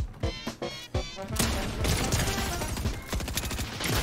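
SMG gunfire in the Fortnite video game: a few short bursts, then a sustained rapid rattle of shots mixed with crashing impacts, loud and continuous.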